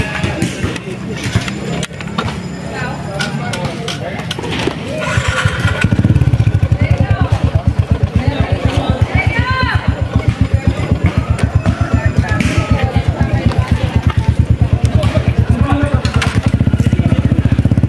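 A motorcycle engine idles and then revs, settling into a steady, loud, close running drone for most of the stretch, with people talking over it.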